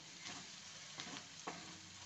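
Green chili paste with turmeric and asafoetida stirred in a pan, faint low sizzling with a few soft spoon scrapes, alone and quiet.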